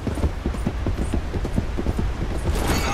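Horses gallop in Red Dead Redemption 2 during a mounted joust, a close, loud, rapid rhythmic clatter of hooves with faint creaking of tack beneath.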